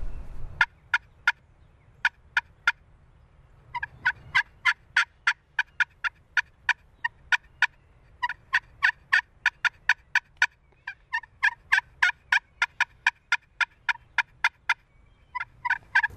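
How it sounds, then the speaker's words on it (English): Wild turkey gobbling repeatedly outdoors, a long series of sharp rattling gobbles in clustered bursts, moderately distant and clear over a quiet low rumble. "He's probably gobbling it at us too."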